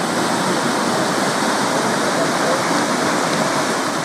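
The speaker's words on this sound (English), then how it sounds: "is an artificial white water course on the northern bank of the River Tees" Loud, continuous rushing water roars at an artificial white water course on the northern bank of the River Tees in Stockton-on-Tees, a dense steady wash close by.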